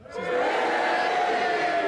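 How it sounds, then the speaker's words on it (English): A studio audience booing together, a loud sustained crowd roar that swells quickly and holds steady for nearly two seconds. "The boos have it."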